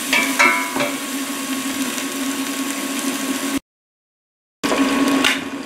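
Fresh herbs and spices being stirred in a curry pot, a steady sizzling and scraping hum with a few knocks near the start, broken by a second of silence before the stirring resumes.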